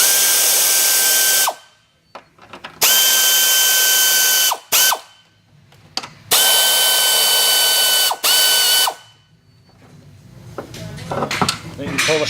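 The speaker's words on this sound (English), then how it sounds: "take the three nuts from the top of the strut, just take them all the way off" Ratchet wrench spinning off the three strut top nuts on a 2001 Oldsmobile Intrigue, rapid clicking bursts in several runs separated by short pauses and clunks of metal, close up.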